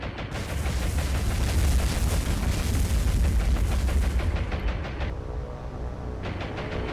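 Heavy anti-aircraft fire in the War on the Sea naval combat game, a dense, loud, continuous barrage of booming bursts that thins out slightly toward the end.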